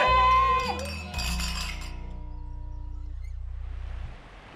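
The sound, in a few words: glasses clinking in a toast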